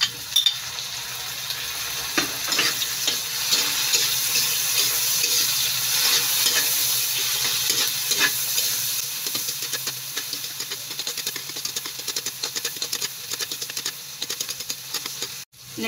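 Garlic and tomato fry in a pan for adobong kangkong with tofu, a steady close hiss and sizzle with scattered crackles and stirring taps that thin toward the end, with no talk.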